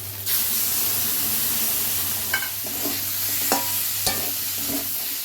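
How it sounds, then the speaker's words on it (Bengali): A ground spice paste of cumin, coriander and green chilli fries in a pan with a continuous close hiss, broken by a few sharp clicks of a spoon or spatula stirring against the metal. "মশলাটা গুলে রেখেছিলাম জিরে ধনে আর কাঁচা লঙ্কা বাটা"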